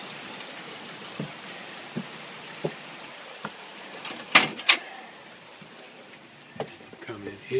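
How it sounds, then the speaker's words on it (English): Rain falls outdoors at the front entrance of a manufactured home in Salem, a soft steady patter broken by scattered sharp drips and knocks, with brief voices nearby. "Hope I don't get too much rain on the camera."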